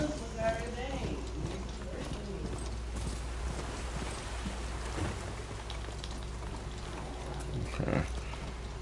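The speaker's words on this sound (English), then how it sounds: "I try to fucking calm down the horse" A horse in the Horizon Forbidden West video game sounds with muffled hoof clip-clops and rustling under an ongoing game soundscape, with a person talking over it at times.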